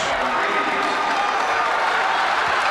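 A dense basketball arena crowd roars and cheers for the Kansas Jayhawks against Oklahoma State in a 1992 Big 8 game, a steady wall of noise with scattered applause and no break.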